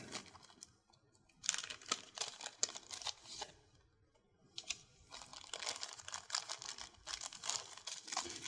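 A package holding a B.O.S. Lock Fusion kit and its carrying case is opened and unpacked close by, with bursts of crinkling, rustling and clicking plastic and cardboard handling, quiet overall and without speech.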